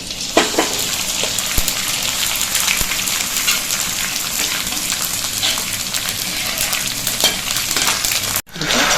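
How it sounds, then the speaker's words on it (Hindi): Dry fruits and makhana roasting in a pan, a loud, constant crackling sizzle like rain on a surface, with scattered sharp pops and stirring scrapes close up. "हम मखाने डाल देंगे, इसको इसी तरह से एकदम क्रिस्पी होने तक हम इसको भूनेंगे।"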